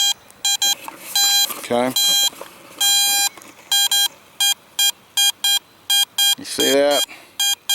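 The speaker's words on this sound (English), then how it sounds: "Alright, it's a good 85 signal. Let me shut these headphones off. I want you to hear it so you can hear it." Metal detector in an old park sounds a high, strong beeping signal over a target, sharp repeated tone bursts in an irregular rhythm, with a voice briefly talking between them.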